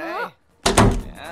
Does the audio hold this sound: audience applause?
no